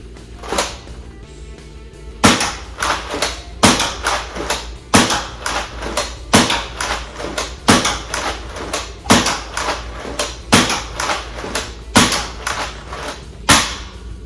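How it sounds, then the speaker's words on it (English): A Nerf Ultra battle axe blaster fires standard black Ultra darts in a steady series of about a dozen sharp, loud snapping shots roughly every second, each with a brief mechanical clack, with no talking. "Now I'll show you firing, not attacking. Starting with standard black Ultra darts."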